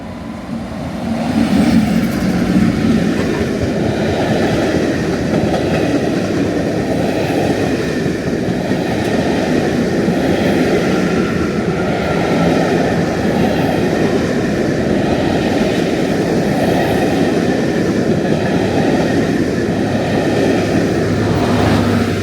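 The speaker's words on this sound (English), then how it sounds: "we're going to get the charter passing through Dudleston now" A DB Cargo Class 60 locomotive hauling a railtour charter train rolls through a station, producing a loud, steady rumble with a regular rhythmic clatter of wheels over rail joints throughout.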